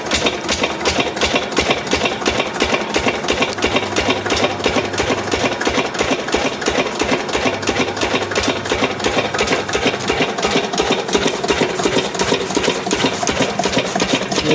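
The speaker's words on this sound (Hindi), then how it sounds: "पहली किक में स्टार्ट हो गया डीजल लिस्टर इंजन।" A Lister 8 HP diesel engine runs steadily after a kick start, a loud close rapid chugging with an even mechanical clatter that holds throughout without pause, no voices over it.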